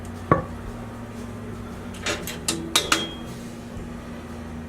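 A ceramic plate setter is lifted out of a hot Big Green Egg grill and set down beside it: a sharp knock, then several light clinks and scrapes, fairly close.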